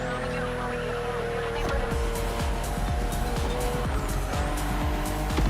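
A BMW CSL race car in a racing game revs hard and shifts through gears, its loud engine note rising and falling with repeated tire squeals and skids, while a voice talks over it.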